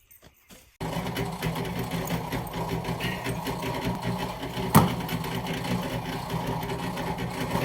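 Concrete mixer churning compost outdoors; after a moment of near silence its motor kicks in with a steady, loud mechanical drone and rattle, broken once by a single sharp knock midway.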